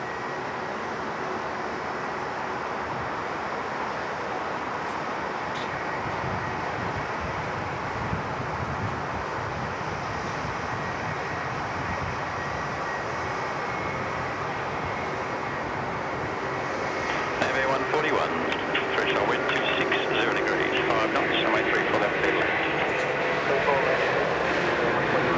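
A Qantas Airbus A380 at Sydney Airport, heard as a broad, steady roar of jet engine noise that thickens and grows rougher in the later part, with wind buffeting the microphone and someone talking over it.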